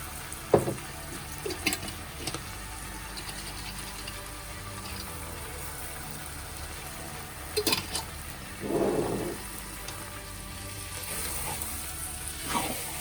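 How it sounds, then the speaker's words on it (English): Water sloshing in sauce bottles for a vegetarian lasagne, several short splashy shakes and pours scattered over a steady background hiss, close and intermittent. "pour a little bit of water into the bottles again. Just shake it and pour out the sauce"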